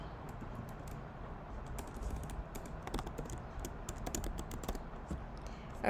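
Fingers type on a computer keyboard while entering list items during an HTML lesson, a steady stream of close, light clicks and taps running throughout with no talk.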